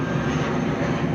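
Emirates A380 airliner at London Heathrow Airport: a steady, loud jet engine roar holds without pause, broad and rumbling with no voices.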